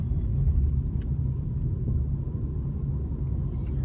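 A car accelerating out of a corner, heard from inside as a low, steady engine and road rumble that holds for a few seconds without talk.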